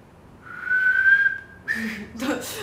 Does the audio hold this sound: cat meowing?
no